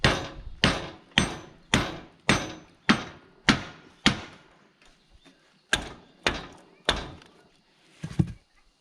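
Repeated sharp hammer blows drive a bushing out of a tandem axle utility trailer during restoration, about a dozen loud metallic strikes in a steady rhythm with a brief pause midway, then a final cluster of hits.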